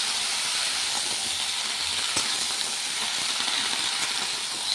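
Vegetables hiss and sizzle steadily in a hot pan on a gas stove for a home-cooked Bengali dish seasoned with salt and turmeric, with a dense, constant frying sound throughout.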